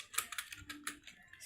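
Soft, rapid clicking of keys on a computer keyboard, a short burst of irregular taps heard close and quiet with no talk.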